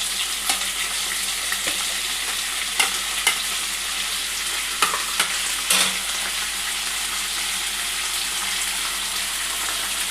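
Chopped onions and curry leaves frying in a pan for a country-chicken curry, giving a steady broadband sizzle throughout with a few brief spatters and stirring clicks, no talk.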